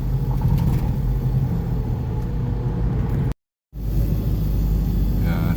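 Modified Toyota Innova diesel car cruising on a relaxed road test, a loud, steady engine rumble and road noise that drops out for a moment near the middle, then resumes.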